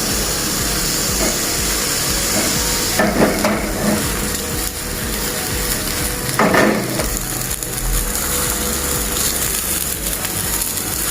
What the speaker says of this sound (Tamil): இதை அப்படியே லைட்டாக பொரிச்சு எடுத்துருவோம்